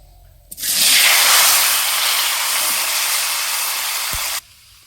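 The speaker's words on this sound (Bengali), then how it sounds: "এবার আমি তেলটা দিয়ে আলু আর শাকটা কষে নিচ্ছি" Potatoes and leafy greens hit hot oil with a sudden loud, broad sizzle that holds steady for about four seconds and then cuts off, with no talking.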